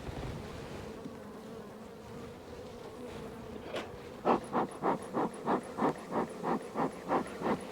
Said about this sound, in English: that's a big cluster of bees.